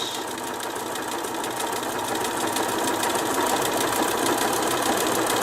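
Sewing machine running continuously at close range while stitching along the edge of a fabric coaster, a steady rapid mechanical whir that grows slightly louder toward the end.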